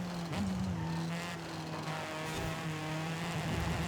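A car sliding out on race tires in Forza Horizon 5, its engine droning steadily with a sustained tonal tire squeal and skid running under it, loud and continuous throughout.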